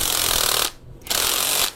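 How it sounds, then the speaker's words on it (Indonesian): A shock wrench tightening a new shock absorber on a Yamaha Mio motorcycle, giving two loud, harsh mechanical bursts, each under a second, with a short gap between them. The sound is close and without voices. "kita balik, kita pakai kunci shock"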